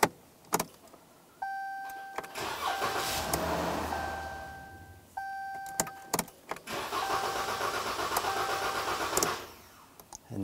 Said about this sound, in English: Then you want to start the truck and wait for it to die.